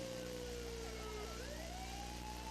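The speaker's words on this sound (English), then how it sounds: "Sirens are coming here, Lowe." Police sirens wail steadily and rise and fall in pitch, mixed with a low engine hum, at a moderate distance and with no talk.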